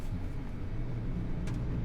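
Mazda RX-7 on new tires cruising along a road, a steady low engine and road rumble throughout with no clear revving or pass-by.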